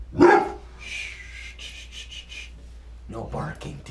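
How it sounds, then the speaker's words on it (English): A dog in a motel room gives one sharp, close bark, then whimpers and pants in short bursts while someone talks quietly. "No barking. We're in a motel. We gotta be quiet."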